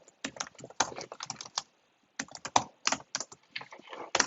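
Typing on a computer keyboard into a Google Doc, close and clear bursts of rapid key clicks with a brief pause in the middle, then more quick tapping.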